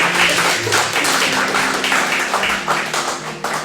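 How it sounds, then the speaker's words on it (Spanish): A church congregation claps in a rhythmic burst of applause, loud and fairly close, with a few voices sounding through the clapping. "Den un aplauso al Señor, mi hermano"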